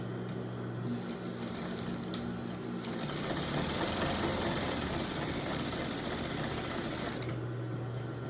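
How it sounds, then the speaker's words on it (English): Sewing machine top stitching an apron, a steady fast mechanical whir running for several seconds between quieter idle stretches, close and moderately loud. "Okay, so the top needs to be top stitched because you won't sew it on there."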